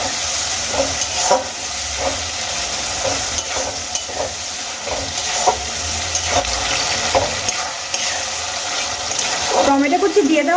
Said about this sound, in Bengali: টমেটো কুচি দিয়ে দেওয়ার পরে খুব ভালো করে আমি কিন্তু নাড়িয়ে চাড়িয়ে নিয়েছি